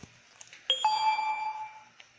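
Mobile phone notification ding as prepaid load arrives: a single bright chime with sustained ringing tone lasting about a second, fairly close and clear, alone with no talk.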